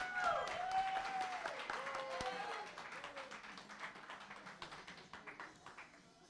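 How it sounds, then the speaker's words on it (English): Scattered applause from a modest audience at a bench press championship, quieter and fading over several seconds, mixed with tapping and tonal sweeps of background sound. "Give him a round of applause."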